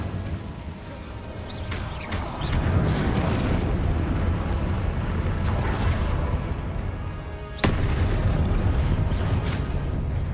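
Fiery spell blasts in the Hogwarts Legacy video game, a loud sustained roaring burst with a sharp second boom near the end, dense and continuous rather than a single crack.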